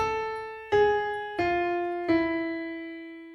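Four slow keyboard notes of the yellow part of Bella Ciao, each struck cleanly and left to ring and decay before the next, descending in pitch, played alone with no talking.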